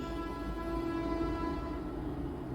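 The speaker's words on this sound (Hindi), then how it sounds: "बहुत तेज आवाज़ आ रही है हॉर्न की।" A train horn holds a steady, moderately loud tone over a low rumble for a couple of seconds.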